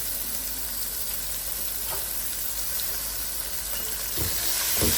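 Tomatoes sizzle steadily in a pan of oil for a spinach mutton curry, a continuous close hiss with a few brief scraping stirs near the end and no talk.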